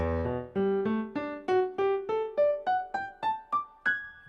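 A piano plays a rising sequence of about a dozen separate notes, each cut short so it dies away before the next, giving a clipped, detached sound.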